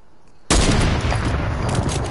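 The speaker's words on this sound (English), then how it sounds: "Loudest sniper in the game" A sniper rifle shot in a video game cracks in with a loud, sudden broadband blast, then a sustained roaring echo and rumble that holds at high level until the end.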